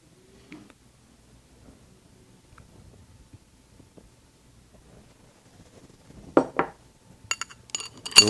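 A metal ice cream scoop serving French rice pudding into glasses. Near silence gives way to several close, bright clinks and scrapes of the scoop against glass in the final seconds.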